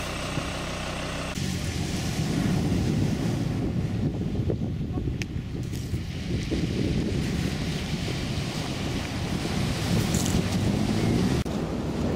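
Sea waves and wind on a beach in late afternoon, a continuous loud roar of surf with heavy wind buffeting the microphone.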